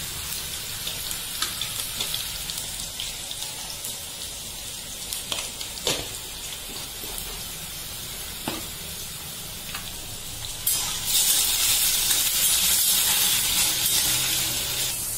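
Potatoes for sabudana khichadi fry in a pan over full flame with a steady sizzle and hiss, a few sharp pops, and a louder, brighter hiss swelling near the end.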